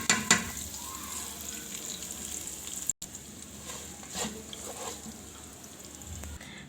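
Onions and chillies frying in an electric rice cooker, a steady close sizzle with a wooden spoon stirring and scraping through it, a sharp knock and brief gap partway through.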